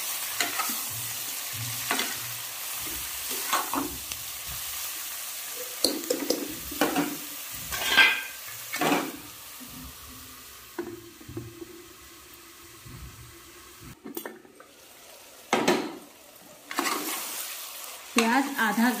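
Onions fry in a pan for dhaba-style chicken while being stirred repeatedly, so a soft sizzle is broken by regular spatula scrapes and clatters that rise and fall across the stretch.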